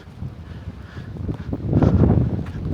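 Hot, steady wind gusting outdoors in Aruba, a broad low rumble buffeting the microphone that builds louder toward the end, with no talk over it.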